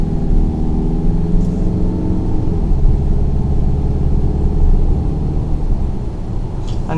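A 2018 Mazda CX-5 with the 2.2-litre diesel, 121 kW and six-speed automatic, cruising along; a steady low engine and road rumble holds at a constant level throughout from inside the cabin.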